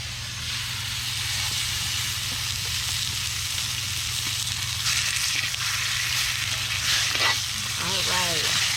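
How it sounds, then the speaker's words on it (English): Pork tenderloin sizzling in a tablespoon or two of olive oil while cooking outdoors, a steady loud frying hiss throughout with a few faint bird chirps near the end. "my favorite part is the sizzle."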